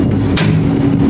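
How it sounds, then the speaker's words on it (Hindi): A single sharp hammer blow rings out against a mixer arm while it is knocked loose from a concrete batching plant's mixer, over a steady low machine hum. "यहीं पे हथौड़ा मार मार के इसको बाहर निकाल लेना है।"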